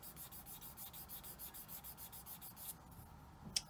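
Fine 1000 grit sandpaper rubbing over a textured liquid clay pendant in steady back-and-forth strokes, a soft rhythmic rasp repeating about five times a second, close and quiet, stopping near the end with a small tap.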